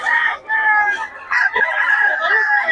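A rooster crows loudly and close, in two long drawn-out calls with a short gap between them, and a brief cluck follows.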